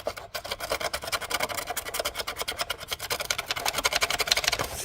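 A wire brush scrubs carbon from a Mercedes Sprinter injector seat in fast, close, rhythmic rasping strokes that continue steadily throughout.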